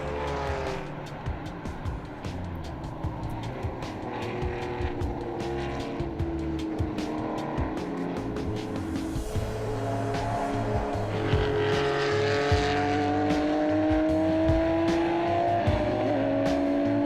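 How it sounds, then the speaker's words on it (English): Classic race cars, including a Porsche RSR, roar around the Spa circuit at a historic race, engines rising and falling through gear changes as several cars pass, with occasional tyre squeal in a loud, continuous blend. "along with Michel Lecour, Raymond Narak starts from pole and shows he's in the mood to dominate his competitors."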